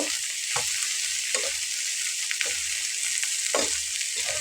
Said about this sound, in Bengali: একসঙ্গে ভালো করে মিলিয়ে দিয়ে নামিয়ে নেব।